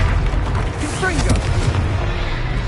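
A Confringo fire spell explodes in a Hogwarts Legacy duel with a sharp, booming burst and a rumbling tail amid combat noise, while a voice is heard over it.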